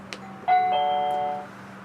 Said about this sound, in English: we're going to ring the doorbell